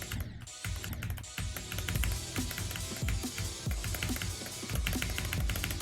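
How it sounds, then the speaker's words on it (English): Quick, irregular clicks of fingers typing on a computer keyboard, close and crisp, with short bursts and brief pauses over faint background noise. "I was typing out the text and I was like"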